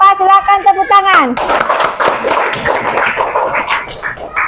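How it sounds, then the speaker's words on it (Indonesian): A group claps in a classroom after a group presentation, a quick burst of close, lively applause that follows a brief spoken line. "untuk kelompok 4 silakan tepuk tangan."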